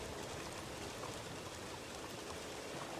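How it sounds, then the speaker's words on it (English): Steady, dense rain pours in a video game roleplay set in the wild, a constant hiss of falling water with no voices over it. "Oh, this fucking rain."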